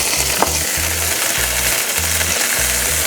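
Garlic, broccoli stems and anchovy fry in olive oil, a steady close sizzle with a low rhythmic rumble underneath throughout.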